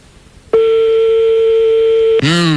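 Over a telephone line, a loud steady ring tone holds for about a second and a half, then breaks into a different warbling electronic tone, heard alone and close.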